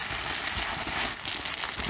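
A blade slices and rips open the plastic packaging of a diecast model car, a close, steady crinkling and crackling rasp that lasts a couple of seconds.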